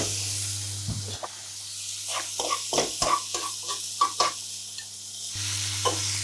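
Mushrooms sizzling in a hot frying pan in a restaurant kitchen, soft steady frying hiss broken by several sharp crackles and stirring clatters, close and moderately quiet.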